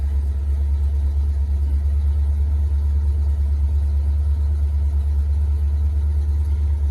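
A 1972 Cadillac with a 472 V8, just restarted, idles with a steady, deep low rumble, close and continuous, with no voices over it.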